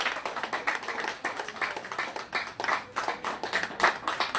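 Audience clapping for the hosts at a gathering held in an elderly care home, steady moderate applause from a crowd at a middle distance, with no speech over it.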